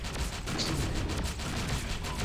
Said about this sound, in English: it's shooting pulses out